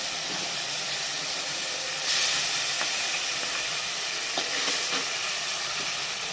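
Ground spice paste sizzles in a pan with softened tomatoes while cooking potato and cauliflower curry, a steady close hiss with a louder surge as the paste goes in and a few small clinks of stirring.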